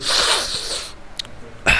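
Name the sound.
sneeze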